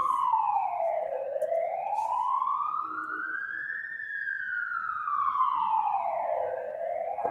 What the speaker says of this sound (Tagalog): Palampasin muna natin ang ambulansya.